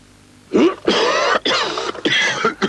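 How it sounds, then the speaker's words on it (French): A few rough, throaty coughs in quick succession, close and fairly loud, with breathy bursts between them. "Qu'est-ce que tu tousses?"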